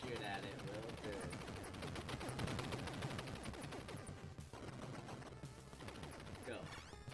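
Rapid gunfire aimed at a final boss in a video game, a dense run of shots mixed with game effects and a voice talking over it.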